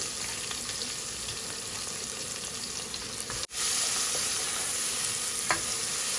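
Onion sizzling and frying steadily in a hot pan, a dense continuous hiss with a brief cut partway through and faint stirring clinks, no talk.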